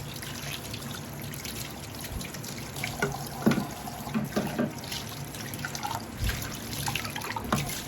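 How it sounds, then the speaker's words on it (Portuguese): Tap water running steadily into a kitchen sink for a rinse before carrots and cucumbers are peeled and washed, a continuous splashing rush with occasional clinks and knocks, close and without speech. "Passar uma aguinha aqui"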